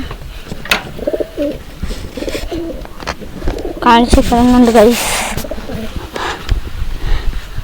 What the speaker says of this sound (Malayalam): ബാക്കിയുള്ള പ്രാവുകള്